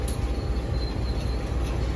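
Kahuripan economy passenger train running from Jogja to Bandung, a dense steady rumble and rail noise heard from inside the carriage, constant throughout with a faint high whine above.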